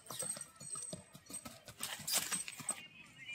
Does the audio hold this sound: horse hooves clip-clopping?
yes